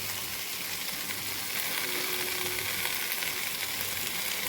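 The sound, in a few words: bottle gourd frying dry in a pan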